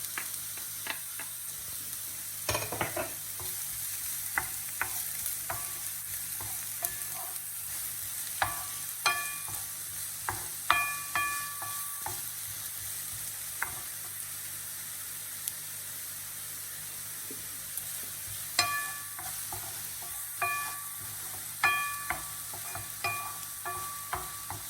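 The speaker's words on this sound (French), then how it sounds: "on va faire revenir les oignons qu'on a ciselés finement avec l'ail haché" Finely chopped onions and minced garlic sautéing in a pan for spaghetti bolognese, a steady soft sizzle broken by scattered clinks and scrapes of stirring, with no talk.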